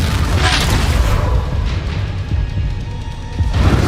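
Confringo explosion spell in Hogwarts Legacy, a loud continuous roaring boom and crackle that fills the whole stretch, with a fresh burst near the end.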